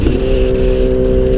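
A Kawasaki Z800 inline-four motorcycle's exhaust gives a loud, close, steady mechanical drone for just over a second.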